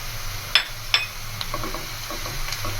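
Whole spices, including black pepper, mace and a piece of nutmeg, hitting hot oil for chicken korma, with two sharp clinks of a spoon against the pan, then a steady soft sizzle and light stirring scrapes throughout.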